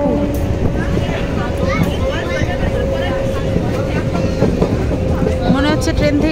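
Train running on the Ranaghat line near Akaipur station in West Bengal, a steady rumble with faint rhythmic clatter and a sustained low hum throughout, close by and continuous, with some voices mixed into the background.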